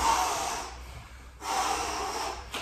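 Two forceful, breathy exhales, close and loud, with a brief quiet gap between them, as a person blows out hard before rowing while holding their breath.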